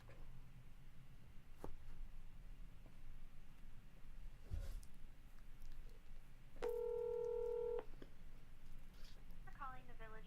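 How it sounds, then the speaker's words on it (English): Telephone keypad tones dialing the Romeoville, Illinois city hall number, a steady dual tone held about a second over faint room noise and soft clicks, no talk during the dialing. "Calling the village of Romeoville."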